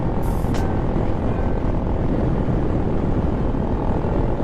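A Venom X22GT 250cc motorcycle ridden at around 52 mph with light throttle gives a constant loud roar of engine drone mixed with heavy wind rush, steady throughout.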